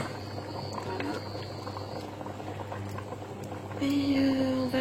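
Water at a rolling boil beneath a Tunisian couscous steamer, a steady bubbling churn with light clinks and a faint whistling tone rising near the end.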